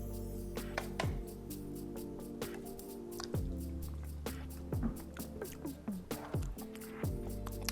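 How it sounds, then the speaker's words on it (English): A whisk stirs a coleslaw dressing seasoned with nutmeg, giving quiet wet squishes and soft clicks against the bowl in an uneven rhythm, with faint tonal sound in the background. "Use your whisk, give her a stir."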